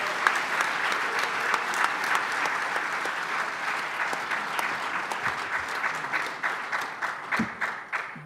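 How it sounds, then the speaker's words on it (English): An audience at a plenary debate applauds with steady, full clapping from a large crowd. The applause begins strong and thins to scattered claps near the end. "Let's give a round of applause to both sides."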